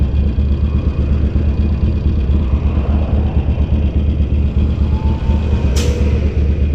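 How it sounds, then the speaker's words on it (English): Heavy road traffic with cars, trucks and buses, a loud and continuous low rumble of engines heard from a motorcycle, with a brief air-brake hiss near the end. "Man, traffic is horrible today."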